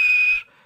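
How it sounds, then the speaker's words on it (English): A single shrill, steady steam engine whistle blast, held briefly and then cut off, leaving a fading ring. "he blew his whistle"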